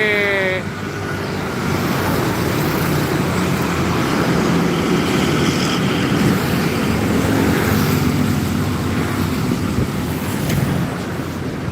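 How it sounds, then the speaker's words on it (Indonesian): A gallon water truck races an empty cement truck on a highway, producing a continuous loud traffic roar with engine drone and tyre rumble throughout and a brief horn-like tone at the start. "Truk galon balapan sama truk semen kosongan."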